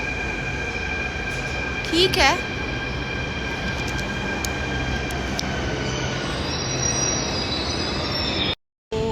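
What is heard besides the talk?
Delhi metro train leaving the station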